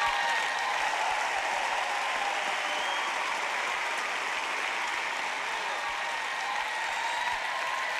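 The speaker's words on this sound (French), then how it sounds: "Allez, acclamez notre Dieu Saint ce soir." Church congregation applauding and cheering God during a French-language sermon, a dense, sustained wash of clapping and crowd cheers filling the whole stretch.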